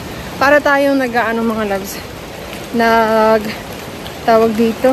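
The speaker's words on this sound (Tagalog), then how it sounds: "So, umuulan. Ang lakas ng ulan." Heavy rain falling steadily during a hike in Dominica, a constant broadband wash heard close around, with someone talking over it in bursts.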